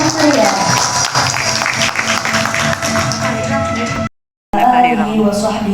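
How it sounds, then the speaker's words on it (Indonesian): An audience applauds at a school year-end ceremony, dense clapping and crowd noise filling the space before a brief silent cut and a resumed burst. "kita berikan tepuk tangan yang meriah."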